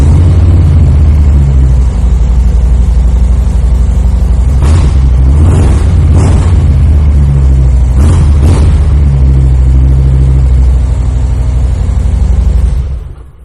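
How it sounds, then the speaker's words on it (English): A 2022 Harley-Davidson Low Rider 117 with Cobra exhaust idles loud and close after a cold start, its deep steady rumble broken by several sharp throttle blips in the middle before the engine cuts off. "I will take the opportunity right now to fire this bike up so you can hear that Cobra exhaust"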